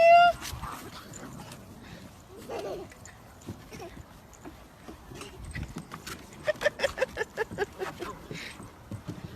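Puppies chasing alongside a car, yipping and whimpering in scattered bursts at moderate distance, with a run of quick rhythmic barks near the end while people talk faintly over them.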